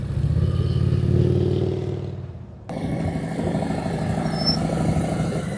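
A motorcycle rolls at slow speed on a Florida practice course, its engine a steady low rumble with a brief dip and clutch-in lull midway before the drone resumes, near and continuous.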